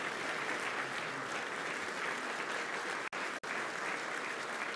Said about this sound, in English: We can have that round of applause again